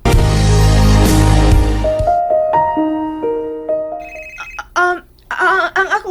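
A mobile phone ringtone chimes in a series of bright melodic tones after a loud swelling musical sting, followed by brief clattering and a wavering voice-like warble at the end.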